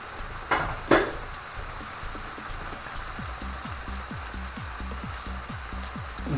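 Breaded chicken fries in a pan, a steady crackling sizzle throughout after two brief louder clatters near the start, with no talking.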